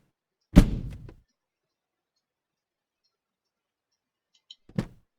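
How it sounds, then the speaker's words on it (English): Door of a Piper Cherokee light aircraft in the FSX flight simulator shutting with one solid thunk and a brief rattle, followed by quiet and then a second, softer latch clunk near the end. "Close the door."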